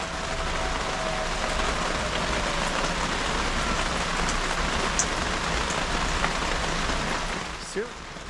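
Steady, heavy rain patters on a surface, a constant dense hiss with scattered drops throughout.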